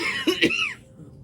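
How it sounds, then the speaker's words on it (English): A single close, sharp cough with a brief throaty follow-up, then quiet room tone. "got that cough back"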